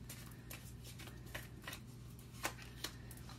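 Tarot cards being shuffled and drawn, a soft continuous riffle and slide broken by a few sharper card snaps, close and fairly quiet over a steady low hum.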